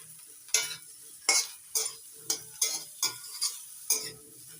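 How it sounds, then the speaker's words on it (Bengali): Eggplant pieces frying with browned onions in a pan are turned by a spoon in about eight distinct scraping strokes, with a soft sizzle running steadily beneath them. "এবার দিয়ে দিচ্ছি কেটে ধুয়ে রাখা বেগুন। বেগুনগুলো একটু নাড়াচাড়া করে দিচ্ছি।"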